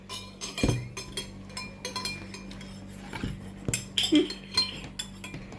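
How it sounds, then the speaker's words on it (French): A utensil stirs in a bowl while honey is poured in, giving repeated sharp clinks and scrapes at an irregular rhythm, close and clear with little talk. "En dessous, tu vas touiller et toi, tu vas verser le miel."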